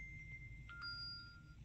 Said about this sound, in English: Sorry, phone call coming in.